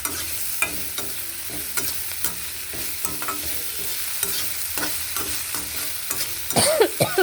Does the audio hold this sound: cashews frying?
yes